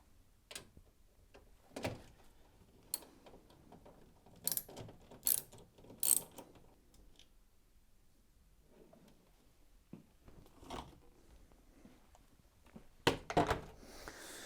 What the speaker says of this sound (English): you need your socket set to remove the 3 screws that hold it in place